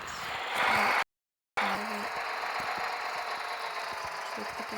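Tractor engine in Farming Simulator 2014 running steadily at idle with a low knocking rumble, briefly cut out by a short gap before resuming at an even, moderate level.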